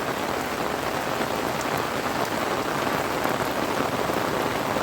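Heavy rain pours steadily in a forest during the first rain of the season, a dense, unbroken hiss of drops on leaves and ground at constant loudness throughout, with no voices.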